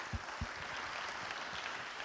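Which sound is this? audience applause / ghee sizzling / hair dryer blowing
audience applause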